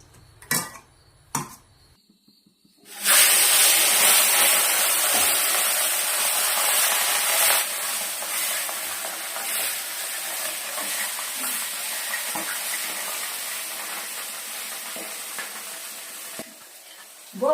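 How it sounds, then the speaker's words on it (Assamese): Pomfret fish rubbed with turmeric and salt frying in hot oil, a loud close sizzle and spatter that bursts in after a few faint knocks and hisses on steadily to the end. "বৰ ফুটে হেৰি যে ৰূপচন্দা মাছ ইমান ফুটে"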